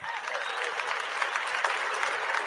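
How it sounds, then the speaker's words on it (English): A live audience gives a big round of applause at a talk by a country preacher from Raleigh, North Carolina, dense continuous clapping from a crowd, loud and close with no pause. "Another big hand clap goes there."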